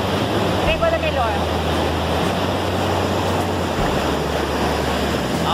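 The Salto do Rio Bonito waterfall in Juti, Mato Grosso do Sul, roars as a loud, continuous broadband rush of falling water, heard close up with a brief voice over it.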